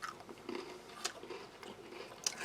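Crisp, crunchy berry biscuits from a 2013 British Army operational ration pack are bitten and chewed close up, giving quiet repeated crunches and sharp snaps alone, without talk.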